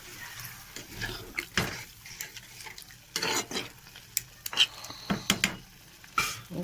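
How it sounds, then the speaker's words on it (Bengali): Whole lote fish in water with turmeric and salt simmer in a pot, with soft bubbling and sizzling broken by a few stirring scrapes and clinks, quiet and close. "তো দেখো খুব সুন্দর ফুটছে।"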